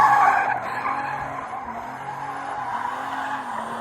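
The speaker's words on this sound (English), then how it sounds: "doing burnouts, doing donuts" A car with a turbocharged OM606 engine does burnouts and donuts, its tires skidding and squealing in a steady, loud hiss with the engine droning underneath.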